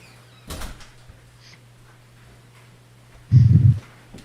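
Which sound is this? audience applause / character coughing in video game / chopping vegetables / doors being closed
doors being closed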